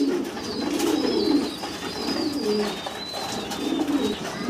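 Pigeons at a pigeon farm coo in low, throaty, repeated waves, close and steady, with faint higher chirps above and no talking.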